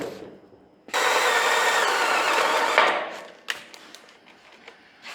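A cordless drill with a larger bit bores into trailer decking, a loud steady whir for about two seconds that winds down, followed by a few sharp knocks and clatters.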